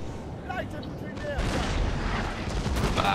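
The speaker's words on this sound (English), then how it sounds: "Being hit by cannons, so that's going to affect morale slightly" Cannon artillery fire in a Napoleon: Total War land battle, booming blasts and rumbling gunfire in a dense, continuous battle din with a heavier burst of shots partway through.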